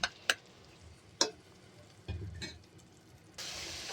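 Mushroom masala curry fries in a pan while a spoon stirs it, with sharp isolated clicks and taps against the pan, a brief scrape, then a soft sizzle rising at the end, quiet overall.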